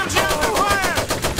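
Heavy machine gun fire in the video game Iron Harvest rattles out as a rapid, loud burst of evenly spaced shots, continuous throughout with no talk over it.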